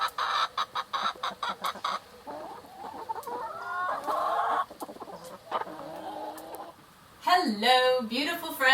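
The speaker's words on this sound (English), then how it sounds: "It's a very sad crow." A young rooster gives weak, cracking crows among repeated clucks from nearby farmyard chickens, loud and close, with a person talking over part of it.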